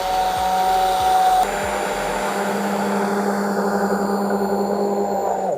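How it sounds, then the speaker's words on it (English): A blender whirs steadily while blending pumpkin soup with coconut milk, a loud continuous motor drone that holds its pitch throughout and opens with a few low thumps as it gets going. "Now we're gonna blend again."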